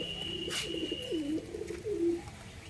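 Giribaj and Lakka pigeons, a male and a female, give soft rolling coos close by over a steady low background hum.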